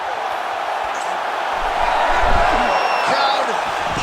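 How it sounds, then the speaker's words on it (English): Arena crowd in the EA Sports UFC 5 fighting game during Thomas Almeida vs Tim Elliott, a steady roar swelling into a louder cheer midway, with commentary over it. "Crowd pops as Elliott fights out."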